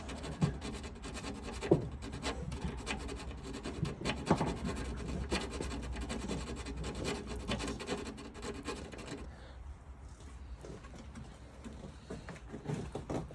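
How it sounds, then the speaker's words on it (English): A very small domed, round-edged file rasps in a hole during a Porsche door restoration, giving steady rhythmic strokes up close for about nine seconds before quieting. "So I'm using a very small domed round edged file."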